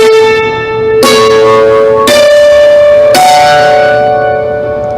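Bright struck metallic strings of a hammered dulcimer ring out in a slow melody, four notes each sustaining and overlapping with long shimmering decay, no voices.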